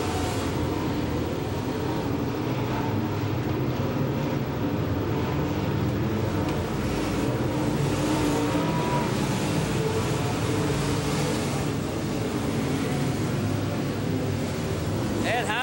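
Late model stock cars racing at Limaland Motor Speedway in 1994 form a constant loud, dense engine roar on the dirt oval, broad and unbroken throughout, with a race announcer talking over it.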